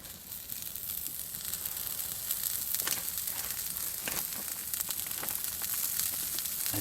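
Bacon-wrapped scallops fry on a stove at an off-grid bushcraft shelter, a soft continuous sizzle with faint crackles and pops, fairly quiet and close, with no talking.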